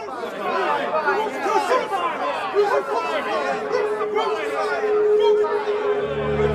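A film crowd clamors before Pilate in a scene of Jesus' trial, a dense murmur of many overlapping voices shouting and urging, fairly close and sustained throughout.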